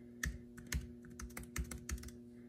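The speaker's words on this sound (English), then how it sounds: "just typing random things" Quick, soft keystrokes tap in an uneven rhythm on a Jelly Comb K62B-3 wireless backlit keyboard, close and quiet, with a steady low hum underneath.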